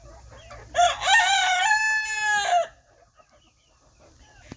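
A rooster in a backyard chicken pen lets out one loud, close crow lasting about two seconds, followed by quiet with faint clucking from hens.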